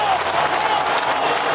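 Dense, steady applause from an online audience at a COVID-19 Peer Hub session, a continuous wash of clapping sustained throughout at fairly close range.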